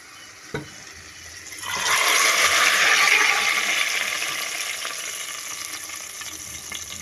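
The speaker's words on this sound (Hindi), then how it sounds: "तड़का ज़बरदस्त जो है वो रेडी हो चुका है। हम इसको दाल के अंदर शामिल करते हैं।" Hot tadka tempering poured into a pot of mixed moong and masoor dal, erupting into a loud, sudden hissing sizzle that holds steady and then slowly fades as the oil settles.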